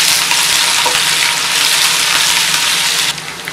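Mustard seeds splutter and crackle in hot oil while Malayalam-style elephant yam pickle is prepared, a steady, loud, dense sizzle that runs throughout and drops slightly near the end.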